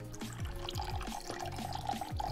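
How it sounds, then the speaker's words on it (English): Pina colada cocktail poured into milk to make a curdled milk punch, giving a steady close liquid pour with dripping and splashing trickles throughout, no talking. "as I'm adding the drink, I'm making sure I'm kind of pouring it around so it combines all the ingredients together"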